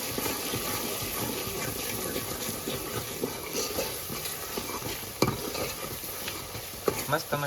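Mutton curry with turmeric and salt being stirred in a pot, continuous close scraping and sizzling with a few sharper knocks of the spoon against the pot, no talk.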